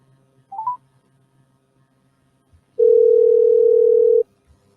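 Telephone call being placed: a short chirp of dialing tones, a pause, then a single loud steady ring tone held for about a second and a half, close and clear over near silence.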